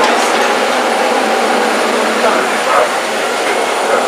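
Broadband engine roar of a jet airplane, steady and fairly loud throughout, with a brief dip near the end.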